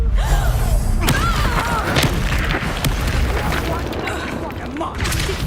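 In Hogwarts Legacy combat, the Confringo spell lets off heavy booming blasts and thuds over busy game noise and voices.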